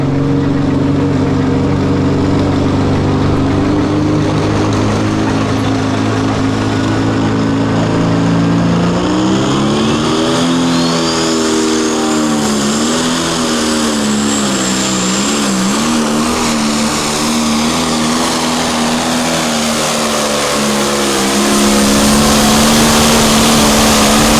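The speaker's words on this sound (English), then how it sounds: "This is going to be Dustin Hook with the Playing Hooky John Deere" A John Deere pulling tractor named Playing Hooky at the Pro Pulling Midwest Summer Nationals in Freeport, Illinois, roars loud and close, its engine pitch rising and wavering through a long continuous pull with no talk.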